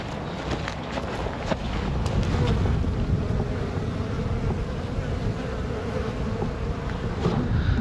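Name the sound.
honey bees buzzing in flight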